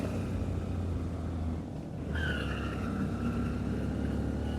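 A motorcycle rides along a hilly road toward Sajek Valley, its engine a steady, close drone with road and wind rumble that dips briefly midway before carrying on.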